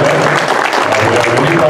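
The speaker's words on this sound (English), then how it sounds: "So let's give a big round of applause." Audience at a MahaShivaRatri Utsavam celebration gives a big round of applause, a loud, continuous wash of clapping from a crowd mixed with a low hum and some background murmur.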